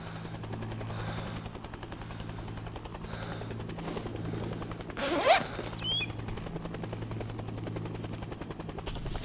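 Helicopter in the Arma 2 DayZ game landing to drop off a player, a steady pulsing rotor thump and engine drone throughout, with a brief whooshing burst midway.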